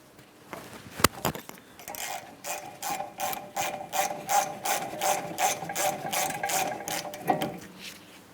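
A ratchet loosens an 18mm-head caliper bracket mounting bolt on a 2008-2016 Chrysler Town & Country during rear brake work, giving steady rapid pawl clicks in repeated bursts, close and clear with no talking.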